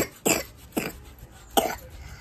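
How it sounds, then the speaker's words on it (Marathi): A child coughs three times in short, sharp bursts spaced apart, close and fairly loud against quiet background. "याला खोकला पण झाला."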